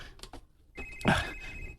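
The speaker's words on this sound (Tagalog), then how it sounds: "Si Nang Tarsila kining nanawag" A telephone rings with an incoming call, a short electronic ring sounding loud and close after a brief quieter stretch, with no talk over it.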